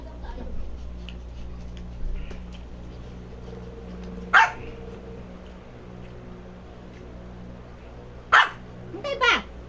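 A dog gives a few short, sharp barks spaced several seconds apart, the last two close together, with people talking in the background.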